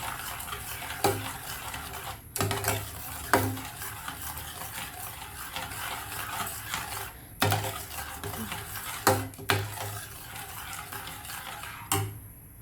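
Stirring a milk powder mixture for carrot pudding in a pot, with a spoon scraping and tapping against the sides in uneven strokes, occasional sharper clinks, close and moderately loud, no talking.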